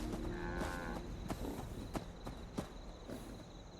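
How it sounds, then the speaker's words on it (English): A two-headed cow in Fallout 76 gives a short low moo, followed by a few soft hoof-like thuds on the ground. "It's a two-headed cow."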